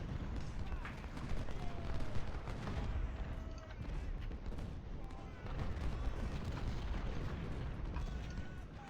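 Battle noise from the Civil War strategy game Ultimate General: Civil War carries dense, rolling gunfire and artillery booms with a dull low rumble, at a fairly soft level, with a voice heard through it.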